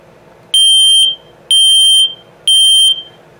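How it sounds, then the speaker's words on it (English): A household smoke detector under test sounds three loud, piercing beeps, each about half a second long and evenly spaced, close to the listener and with nothing else heard between them. "Third smoke detector."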